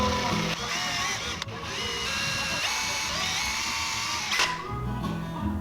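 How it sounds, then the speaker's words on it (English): A power drill bores lead holes into the bottom jaw piece of a handmade hinged-jaw brook trout swimbait, producing a steady, close, whining drone that continues throughout with small shifts in pitch and no speech. "We're gonna start drilling lead holes, starting with the bottom jaw piece."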